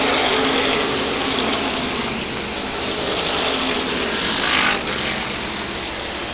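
SK Modified race cars roaring around the Waterford Speedbowl oval during the 100-lap season finale, a steady broad engine drone with a slight swell as a pack passes, no talk over it.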